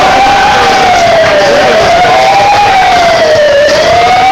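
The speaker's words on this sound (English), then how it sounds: "get that bullhorn siren" A loud bullhorn siren wails at a wrestling event, a single rising and falling electronic tone held throughout the clip, with crowd noise underneath.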